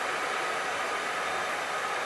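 A simple handheld hairdryer runs steadily at close range, a continuous broad airy roar while heat-shrinking a plastic sealing sleeve over a hand-corked wine bottle in a small winery, with no talk.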